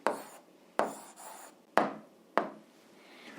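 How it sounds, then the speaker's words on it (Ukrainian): Pen on paper writing an algebra answer by hand, heard as four short scratchy strokes at a steady pace, quiet and close, with no talking. "От зараз записуємо відповідь, пишемо відповідь."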